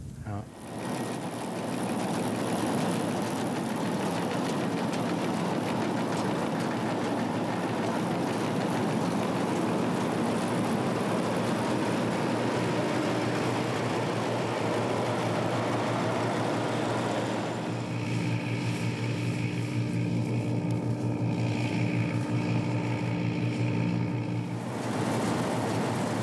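A combine harvester drives slowly through a wheat field on a farm, its engine a steady, continuous drone that stays loud and close throughout, with the tone shifting slightly partway through.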